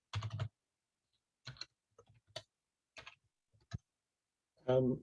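A URL being typed on a computer keyboard: sparse, isolated clicks and short bursts of keys separated by silence, close and clear, with a voice briefly heard at the end.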